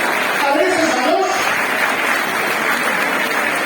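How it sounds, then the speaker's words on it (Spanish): Crowd applause at a cheese auction for Afuega'l Pitu, dense and steady clapping filling the whole stretch, with voices audible over it. "Vamos a aplaudirnos."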